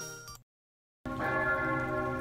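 The Grossmünster church bell rings with a rich, sustained tone full of overlapping resonant hum. It swells in after a brief gap of silence that follows an earlier, fainter ringing tone.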